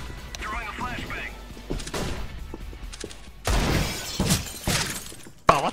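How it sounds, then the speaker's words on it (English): A flashbang grenade detonates in a video game firefight, sharp shattering bangs and thuds cutting through loud combat noise, with players shouting over it. "Throwing a flashbang!"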